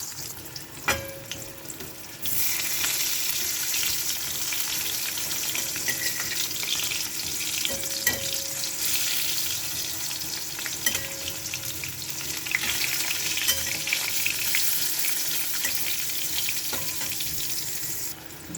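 Sliced pointed gourd (potol) fries in a pan with a steady, loud sizzle that starts after a quiet moment and continues throughout, with faint occasional clinks and a background tap-like hiss.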